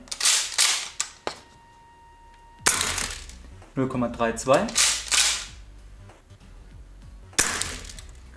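Bursts of sharp shots from an S&T ST870G shotgun on green gas, six per trigger pull, fired in quick volleys over a chronograph, with a voice speaking briefly between them; close and loud, with gaps of quiet.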